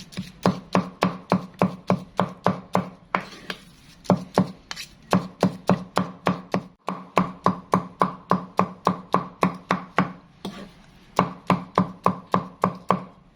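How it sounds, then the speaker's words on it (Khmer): Raw prahok fish paste being minced by hand with a knife on a board, rapid steady chopping strokes in long even runs with brief pauses, close and loud with no talking. "យើងច្រាមចូលគ្នាមកបងប្អូនចា"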